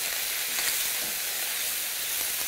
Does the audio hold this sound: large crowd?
no